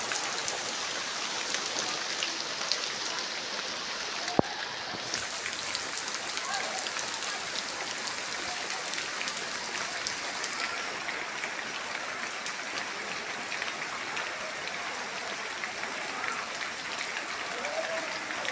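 The year's first rain falls steadily at a Thai village home, a dense continuous hiss of drops on surfaces and ground that stays even and fairly loud throughout with no talking.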